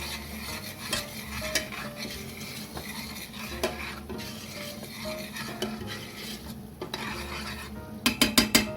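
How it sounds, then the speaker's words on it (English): A spoon stirs turmeric into yoghurt curry in a pot, repeated scraping strokes against the metal under a faint sizzle, ending in a quick run of clinks. "Give that all a stir."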